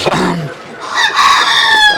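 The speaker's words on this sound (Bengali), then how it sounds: "এই যে মুরগিগুলো আসলে দেখতেছি অনেক সুন্দর" Fayoumi chickens on a farm, with close, loud clucking and a drawn-out crowing call that carries on for over a second, with no talk.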